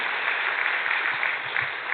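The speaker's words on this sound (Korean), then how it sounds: "우리 담임 목사님 정말 수고하시는데 박수 한번 보내드리겠습니다" A church congregation at an evening revival service applauds the senior pastor with a steady, dense wash of clapping that holds evenly for a couple of seconds.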